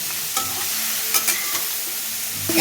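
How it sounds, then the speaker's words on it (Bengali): Taro stolons being stirred and fried in oil with garlic in a home kitchen, a low steady sizzle broken by several sharp clinks and scrapes of a spatula against the pan. "ভালো করে তেলে ভেজে নেবো কচুর লতিগুলো"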